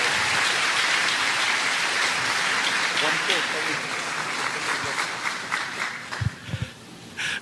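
A church congregation applauding, a dense wash of clapping that thins toward the end, with a few louder thumps near the close.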